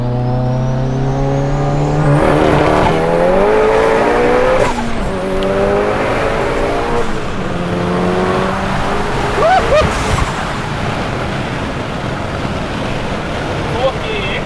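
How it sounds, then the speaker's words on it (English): A 700 hp big-turbo Audi S1 hot hatch pulls hard through the gears on back streets, its engine note climbing in rising sweeps with brief drops at shifts, loud and close from inside the car, with voices now and then. "a little second gear pull"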